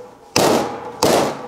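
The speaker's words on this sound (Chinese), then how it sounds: "再把蹄子砍开" Two heavy cleaver strikes splitting open a beef hoof, each a loud sharp crack with a short ringing decay, about two-thirds of a second apart.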